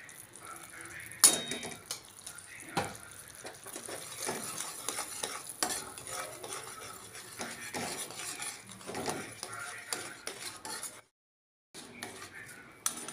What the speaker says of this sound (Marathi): चमच्यात तूप टाकूया पाकामध्ये